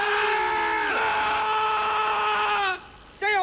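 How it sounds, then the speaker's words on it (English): A sergeant yells a Marine Corps battle cry: one loud, sustained shout that drops in pitch partway through, breaks off briefly, then starts again. "Sergeant, demonstrate a Marine Corps battle cry for this penny-waste."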